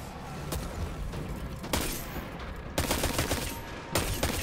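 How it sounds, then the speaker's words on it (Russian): Sustained gunfire in the video game Destiny 2, loud rapid bursts and machine-gun volleys repeating close by over several seconds. "Чё, кто стреляет?"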